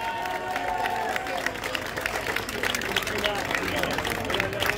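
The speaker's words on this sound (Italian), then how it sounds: "Un applauso forte a Rocco Corlizzi!" An audience claps and cheers for a performer at an evening folk dance event in Ortelle, a busy crowd roar with scattered claps and voices blending into lively background noise.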